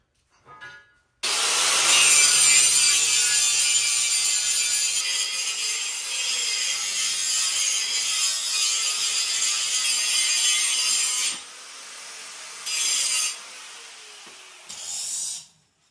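A power grinder bevels the edges of a steel truss plate for a Dana 60 axle, with a loud, sustained, harsh grinding that eases in level partway through and ends in shorter bursts.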